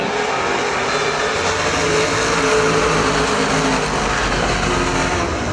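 Super stock race cars take the green flag on the dirt oval at Perris Auto Speedway, a continuous, dense roar of engines that stays loud and steady throughout.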